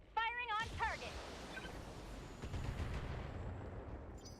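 Mech weapons firing on a target in the BattleTech video game: sharp electronic zaps and a loud opening burst, then a long, dense rumble of impacts and explosions, with brief chirping effects early on.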